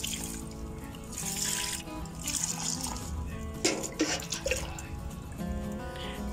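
Milk-based fertilizer poured over garden plants, a steady watery splashing and trickling that runs close and continuous, with brighter bursts of pouring partway through and no voices.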